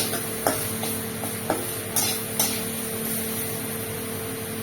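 Vegetable stems are stirred in a pan on a stovetop after a sprinkle of sugar, giving a few sharp scraping clicks spaced about half a second apart over a steady background hiss.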